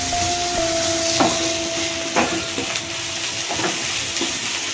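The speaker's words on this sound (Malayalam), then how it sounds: "ഇനി ഒരു മിനിറ്റൂടെ ഇളക്കി മുരിച്ചിടും." Dried prawn roast frying and being stirred in a pan, a dense steady sizzle with a few scraping knocks of the spoon, close and loud throughout.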